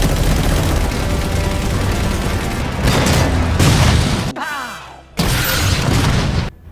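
A string of booming blasts and crashes tears through a Transformers battle on Cybertron as Decepticons are ambushed near an Energon refinery, dense and loud, then a brief lull of sweeping sci-fi whooshes before another heavy burst of explosions.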